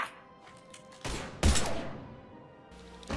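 Gunfire bursts in the video game Mass Effect 3, two loud broadband blasts about a second apart, each trailing off in a long fading echo, with another burst starting at the end.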